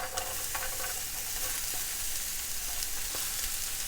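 Chopped onion sizzling and frying steadily in a hot pan, a continuous bright hiss with small crackles and no talking.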